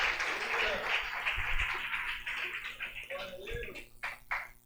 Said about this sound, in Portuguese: vamos a aplaudir al Señor por la vida de nuestro pastor